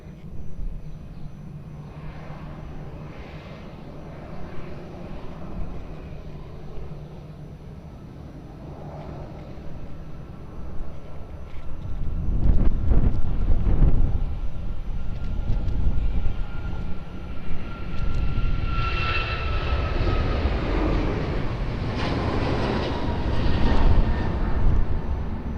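A Ryanair airliner takes off from runway 02 at Lisbon Airport, its engines a broad roar heard from a distance that swells and grows louder over about twenty-five seconds.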